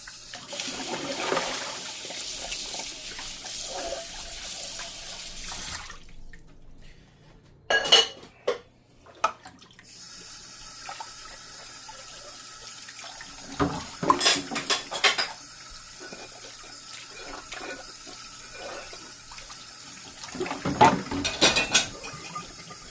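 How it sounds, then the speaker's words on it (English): Dishes, pots and cutlery clatter at a kitchen sink as they are washed by hand, with running tap water, a quiet gap in the middle, and sharper bursts of clinking near the end. "you guys are welcome to stay while I wash all the dishes"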